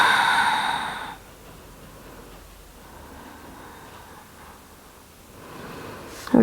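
In a yoga session, a long, deep exhale comes as a soft, breathy rush, close and quiet, after a louder burst at the start. A sharper sound cuts in at the very end.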